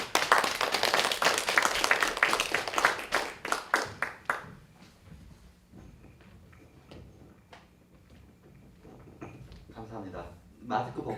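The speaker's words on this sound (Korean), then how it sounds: "박수로 맞아주시죠" Audience applause welcoming an artist at a talk concert, a dense burst of clapping for about four seconds that thins to scattered claps and quieter room sounds.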